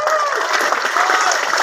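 Audience applause fills a sermon hall, a dense steady wash of many hands clapping at once, loud and close for the whole stretch, with faint voices mixed in.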